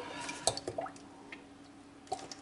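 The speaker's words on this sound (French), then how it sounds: "je mets un berlingot de crème, ce qui fait pile poil 20 centilitres, donc ça me fait 1 litre au total" Liquid cream glugs from a small carton into milk for a flan pâtissier, a few soft splashing drips and pours close by, brief and quiet.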